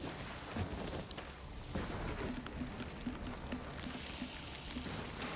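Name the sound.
acid rain falling in an animated short film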